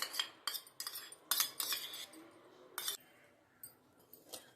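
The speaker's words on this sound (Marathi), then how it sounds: "हे पहा अशा पद्धतीने तूप फेटून घ्यायचं आहे" A spoon whisking ghee in a bowl for eggless cookies, rapid clinking scrapes against the bowl in quick bursts, close and crisp with short pauses.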